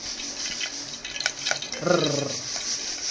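Oil sizzles in a cooking pot while catfish curry is being made, with a bright, crackling hiss, a few short clatters and a brief low growl-like rumble partway through.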